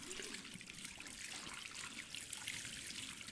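Hot water running steadily from a faucet in a video game bathroom, a dense continuous splashing hiss that stays close and even throughout.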